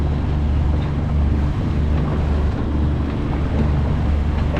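A steady breeze rushes over a sailboat on a sunny fall day in Wisconsin, with continuous wind buffeting and low rumble mixed with faint water sounds, constant and close, no talking.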